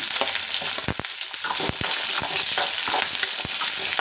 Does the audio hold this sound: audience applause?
no